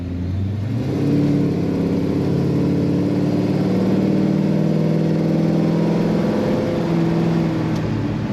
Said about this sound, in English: Nice sounding exhaust coming out of this El Camino.